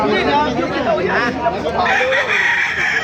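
A rooster crows amid the busy chatter of people at the Baliuag flea market in the Philippines, its call rising over the crowd noise.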